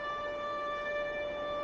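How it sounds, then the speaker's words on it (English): Steady multi-tone siren sounding a general recall at a Martian settlement, a continuous loud wail holding several layered pitches without a break, with no voices over it. "It's just the sirens."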